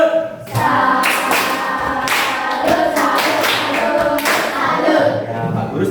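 A class of schoolchildren claps out a rhythmic tepuk salut routine, loud, close bursts of hand claps in a patterned beat with voices chanting along.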